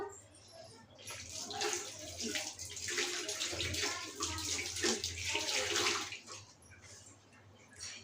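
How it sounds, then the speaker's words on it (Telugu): A kitchen tap runs steadily while someone washes their hands. The water makes a continuous splashing hiss that swells and eases in places, and a faint low hum sits beneath it. "ఓకేనండి నేను హ్యాండ్ వాష్ చేసుకొని వస్తాను"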